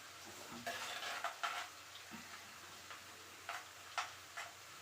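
Herbal oil with leaves fries in a pan for a joint-pain remedy, a quiet sizzle broken by intermittent metallic taps and scrapes of a spoon against the vessel.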